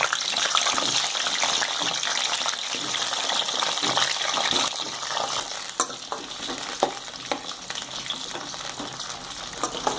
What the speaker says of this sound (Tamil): இதில் இந்த கத்திரிக்காயை போட்டு வதக்கிக்கணும் நல்லா.